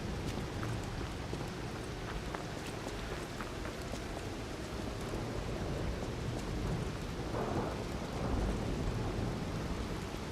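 Thunder from a lightning strike during a dark storm in the video game Lies of P rolls under steady heavy rain, a constant dense wash of noise with a low rumble swelling near the end.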